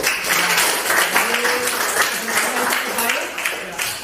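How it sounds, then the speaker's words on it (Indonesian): Group applause in a classroom-style discussion session after a presentation, dense clapping from a room of people, fairly loud and close, with some voices mixed in. "Ya, kita berikan tepuk tangan."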